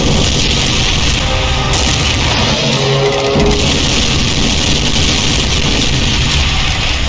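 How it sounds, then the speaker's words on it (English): Explosive rocky fireball clusters from a Hell Baron variant in a Doom mod burst in a loud, dense, continuous roar of booms and crackling impacts, with no pauses and no voices. "It can also unleash explosive rocky fireball clusters while strafing"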